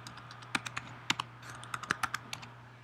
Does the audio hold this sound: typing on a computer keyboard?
yes